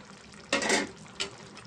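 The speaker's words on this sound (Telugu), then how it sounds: "ఇది మటన్కి బాగా పట్టే వరకు కలుపుకుందామండి" Mutton curry being stirred with masala in a pan, two short scraping, sizzling strokes, the first longer and the second brief, fairly close over a quiet background.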